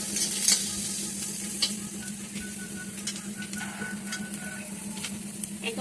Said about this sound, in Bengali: এই মাছটা একদম ভাজা ভাজা হবে